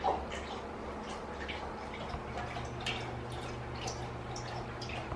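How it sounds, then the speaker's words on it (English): A pet laps up drinking water indoors at night, giving soft, quick, repeated wet slurps and drips that stay faint and close. "Can you hear him slop, slop, slopping? Drinking some water?"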